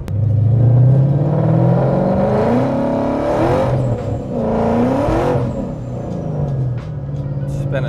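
A car accelerates hard on a highway on a hot day with poor tyres, its engine rising loudly through the revs in a couple of surging pulls that drop briefly between gears, heard close from inside.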